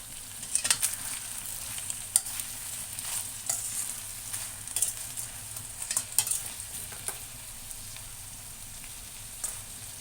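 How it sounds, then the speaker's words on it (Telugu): Masala paste being stirred in a pan while cooking stuffed brinjal curry: steady sizzle with repeated scraping strokes of a spoon, fairly close and clear, no talk. "కలుపుకుందాము ఒకసారి."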